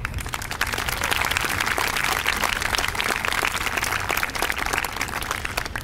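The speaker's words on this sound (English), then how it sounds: "let's give another round of applause to the wonderful end-of-year ceremony committee" A crowd claps at a 2014 middle school graduation ceremony, a full, dense round of applause that swells quickly and holds at a steady level throughout.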